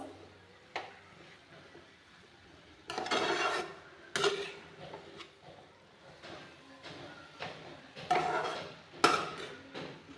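Grated carrots sautéing in ghee for gajar halwa, with repeated scraping and rasping strokes of a spoon across the pan arriving in irregular bursts over a low background, close by and without speech.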